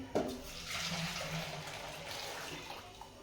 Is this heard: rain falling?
no